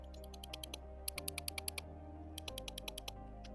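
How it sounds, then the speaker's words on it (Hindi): A relay on a Hero Splendor motorcycle clicks during a rewiring job, giving quiet, rapid, evenly spaced ticks in a steady rhythm over a faint electrical hum. "कुछ ऐसी आवाज आती है जब रिले चलती है ना"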